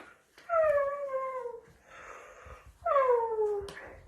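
A sleeping dog snores in two long, whistling, falling wheezes with a noisier breath in between, close and fairly loud, with no talking.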